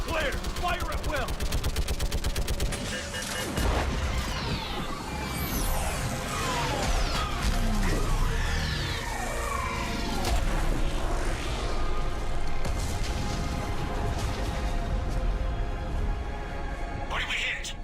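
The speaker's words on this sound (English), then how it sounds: "I need an orbital strike." An orbital strike fires on a live Reaper in Mass Effect 3, with sustained heavy gunfire, booming blasts and sweeping whines over the chaotic noise of a battle, while voices talk throughout.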